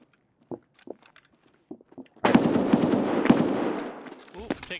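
Sustained burst of gunfire in Escape from Tarkov on the Shoreline map, loud and dense for about two seconds, preceded by scattered footsteps and small knocks, then tapering into quieter trailing sounds.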